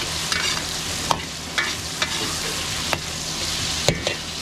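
Garlic and onion sautéing in a pan alongside potatoes and carrots for a catering meal, a steady soft sizzle with a few sharp stirring clinks and scrapes spaced irregularly, close by and alone.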